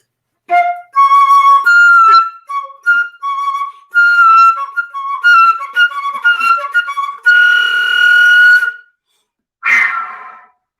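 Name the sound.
flute jet whistle technique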